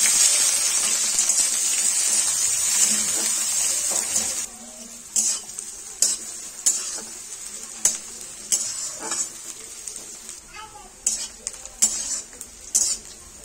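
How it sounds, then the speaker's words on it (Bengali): Dried red chilli, bay leaf, whole cumin and chopped onion frying in hot oil, a loud sizzle at first that settles into softer frying under repeated clinks and scrapes of a spoon stirring against the pan. "তেল গরম হয়ে গেছে, শুকনো লঙ্কা, তেজপাতা, গোটা জিরে, পেঁয়াজ কুচি"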